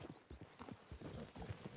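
Steady clip-clop of a horse's hooves in Red Dead Redemption 2, the animal walking toward Valentine with a rider mounted, an even rhythmic series of hoof falls heard faintly and alone.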